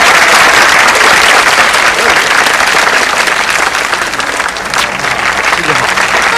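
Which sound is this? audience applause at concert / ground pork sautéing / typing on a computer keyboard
audience applause at concert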